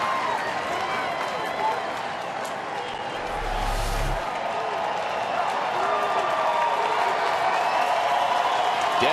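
A baseball stadium crowd of almost 40,000 at a night game swells into a steady, broad roar of cheering and applause that carries on throughout, with voices blended into the din.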